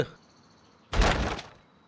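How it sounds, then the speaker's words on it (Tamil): A cartoon door knock effect: one loud, short thudding hit against a door that bursts out of near-silence and quickly fades. "யாருப்பா அது காலங்காத்தாலேயே கதவை தட்டுறது"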